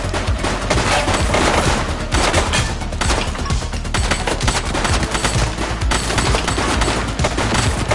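Dense gunfire from the police game The Precinct, with rapid automatic bursts and overlapping shots hammering loudly and continuously for several seconds.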